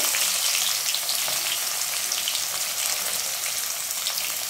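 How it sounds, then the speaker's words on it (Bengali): Oil left over from frying fish heats in a wok, giving a steady, close, even sizzle and crackle that holds at the same level throughout, with no voices. "এবার যে তেলে মাছটা ভেজেছিলাম সেই তেলটাই গরম করে কড়াই ভাজতে দেব"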